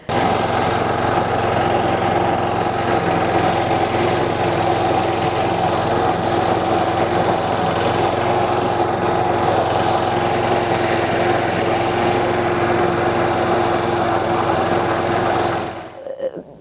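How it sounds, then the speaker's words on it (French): A rotary tiller churning garden soil, its small engine droning steadily and loudly up close for the whole stretch before it cuts off at the end. "Soit on la mélange avec une binette, soit moi je mélange avec la fraise."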